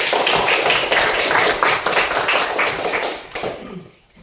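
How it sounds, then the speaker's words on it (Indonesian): A school class claps hands together in a short, lively round of applause, dense and fairly close, fading out quickly at the end. "tepuk tangan untuk kita semua"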